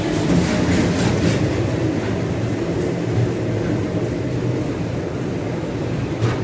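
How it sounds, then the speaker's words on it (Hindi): A DEMU passenger train running from Kacheguda toward Raichur, its steady loud rumble and low drone filling the whole stretch with a faint rhythmic rattle of the carriages, nobody speaking. "डेमो ट्रेन है ये एक्चुअली"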